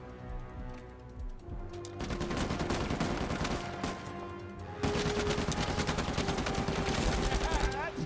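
Rapid automatic gunfire in the video game Uncharted 4, with dense continuous bursts of shots that grow louder partway through, layered with game effects and close and loud throughout.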